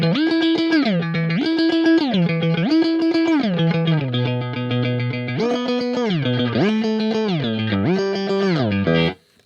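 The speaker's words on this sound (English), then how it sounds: "Maybe a little less so you can hear the sweep a bit." Electric guitar run through a Line 6 HX One effects unit, distorted chord-like tones rising and falling in a repeating sweep, loud and continuous for about nine seconds before cutting off.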